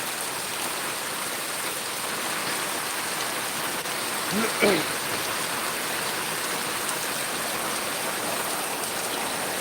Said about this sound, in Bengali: হাওয়াও ছাড়ছে আবার বৃষ্টিও হচ্ছে